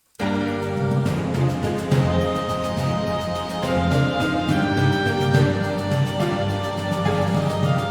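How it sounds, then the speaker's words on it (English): Orchestral video game music builds in energy, with many instruments and layered percussion hits driving a steady rhythm under sustained chords, loud and full with no voices. "I throw in a lot more instruments, including some more layers of percussion"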